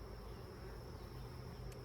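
A steady honey bee buzz hums at low volume throughout, like bees droning nearby from hive frames, with no voices.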